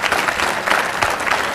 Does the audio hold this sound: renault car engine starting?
no